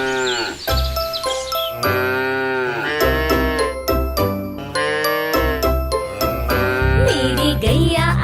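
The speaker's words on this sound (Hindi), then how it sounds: "मेरी गैया आती है, मुझको दूध पिलाती है" A cow moos in drawn-out calls woven into a cheerful children's song, with tinkling bell jingles and steady backing music throughout.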